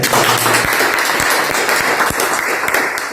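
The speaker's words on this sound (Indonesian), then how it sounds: "Mari kita tepuk tangan kepada tiga kita." An audience at an Indonesian discussion forum on law revision and economic liberalisation applauds loudly, a dense wash of clapping from a nearby crowd lasting a few seconds and tapering slightly at the end.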